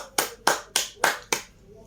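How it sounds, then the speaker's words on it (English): Five slow, evenly spaced hand claps ring out sharply in a classroom after an English lesson group task, a brief unison round with no talk. "Give applause to Buddhist group"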